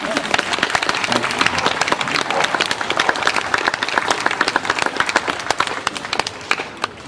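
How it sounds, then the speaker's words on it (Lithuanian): An audience applauds at the opening of the Poetry Spring festival on a drama theatre balcony in Kaunas, 2021: dense, sustained clapping from many hands, fairly loud and close, with a few voices mixed in. "O kur aplodismentai?"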